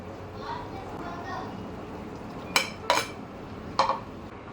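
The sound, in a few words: spaghetti being added and mixed into sauce in a pan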